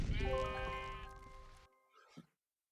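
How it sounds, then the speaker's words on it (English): A single sheep in the video game Ars Magica II lets out one long wavering bleat, loud and close, followed by a short faint sound before silence. "There was a sheep around over here."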